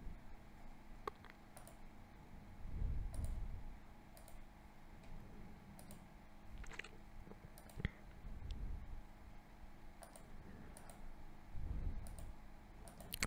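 Computer mouse clicks while opening and downloading a fillable Bangladesh visa application form, a few sparse sharp clicks spread over quiet room tone with low muffled rumbles between.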